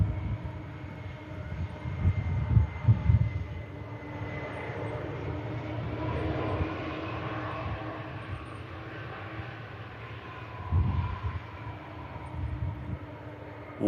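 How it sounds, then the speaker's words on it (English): A Challenge Airlines Boeing 747 lands at Manchester Airport, its engine roar rising and falling over about fourteen seconds, with a heavy low rumble and whining tones as it rolls out. "What an incredible landing that was. Challenge Airlines Boeing 747 here at Manchester Airport."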